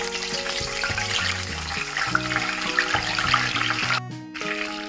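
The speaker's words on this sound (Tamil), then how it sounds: "கருவேப்பிலையை பொரிச்சு எடுக்கிறேன்." Curry leaves sizzle in oil heated over medium heat for a spicy Sri Lankan mixture, a steady crackling fry beneath background music with no voices.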